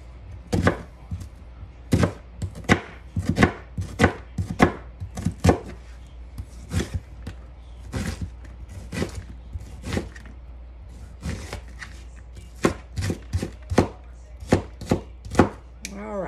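A knife chops an onion on a cutting board for soup, sharp close thuds repeating in quick irregular bursts for about sixteen seconds, heard alone without talking.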